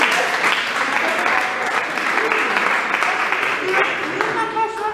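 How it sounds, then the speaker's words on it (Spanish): An audience at a debate applauds with a dense, steady patter of clapping that lasts the whole few seconds, and voices can be heard mixed in. "Pues hija, te voy a dar un aplauso,"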